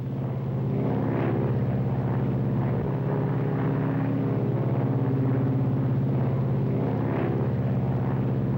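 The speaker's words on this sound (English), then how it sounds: "Gear down. Gears coming down." A 1953 airliner's propeller engines drone loud and steady in flight as flaps and landing gear come down, a constant low rumble with slight swells and a brief mechanical shift partway through.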